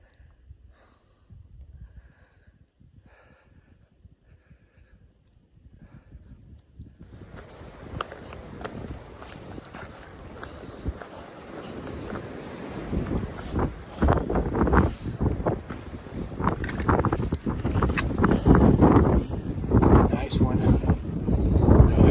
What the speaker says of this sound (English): It's windy again though. The wind just picked up maybe 15 minutes ago.